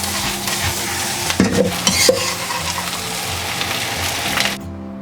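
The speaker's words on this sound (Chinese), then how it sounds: "把切好的蒜苗放下去，给它爆炒个1分钟出锅" Eggs and chopped garlic sprouts sizzle steadily as they are stir-fried in a wok, with scraping clanks of the spatula against the pan near the middle and the sizzle cutting off at the end.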